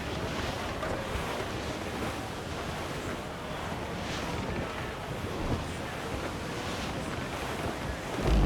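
Storm waves crash and wind roars at sea around a sailing ship in Assassin's Creed IV Black Flag, a dense, steady wash of surf and gusts with no pauses, rising slightly at the very end.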